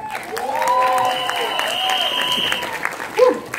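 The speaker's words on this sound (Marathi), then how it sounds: "एकदा जोरदार टाळ्या सूरज आणि त्याच्या बहिणींसाठी" A crowd claps steadily and fairly loudly under a sustained tonal melody, with a short vocal sound near the end.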